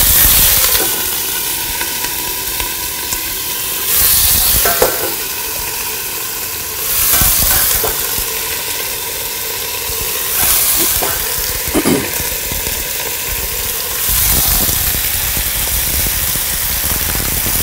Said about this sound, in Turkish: Soğanların içine kerevizleri attım.